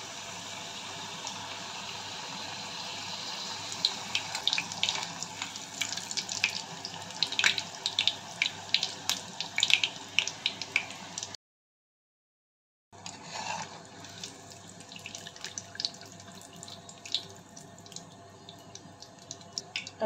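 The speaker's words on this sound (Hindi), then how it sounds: "हम एक एक करके तेल में छोड़ देंगे।" Papad slipped one at a time into hot oil, heard as a continuous sizzling hiss with scattered crackles and pops. The sound cuts out briefly in the middle and then resumes, close and without talk.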